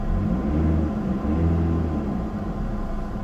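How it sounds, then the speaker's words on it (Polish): A car engine revs up from idle inside the vehicle, its low rumble swelling and rising in pitch briefly before easing back to a steady hum, close and unaccompanied by talk. "Czekaj, dodam gazu, żeby się strasz, straszyła."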